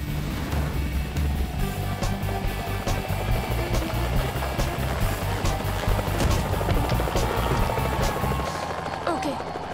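Steady, loud cartoon helicopter rotor noise with a rhythmic thumping chop, continuous throughout before easing off near the end.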